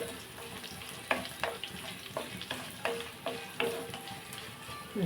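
Chana dal frying in hot oil in a pan, a steady crackling sizzle broken by several sharp scrapes and knocks of a spoon stirring, with no voices.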